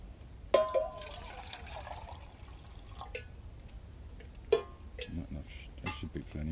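Water pours and drips into a metal pot at a woodland campfire, with clanks of the pot and handle, a few louder splashes and knocks, and quiet outdoor background between.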